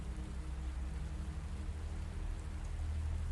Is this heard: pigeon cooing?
no